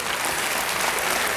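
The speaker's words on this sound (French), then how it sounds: "Arrêtez d'applaudir, on perd du temps." An audience at a French stand-up comedy show claps in a dense, even burst of applause, loud and continuous across the whole short stretch.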